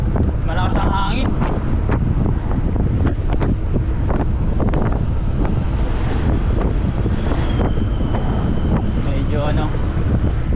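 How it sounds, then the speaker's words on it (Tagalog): Strong wind roaring past while riding on a road, heavy continuous buffeting on the microphone throughout, with a voice talking faintly under the rush. "pasensya kayo, medyo malakas ang hangin"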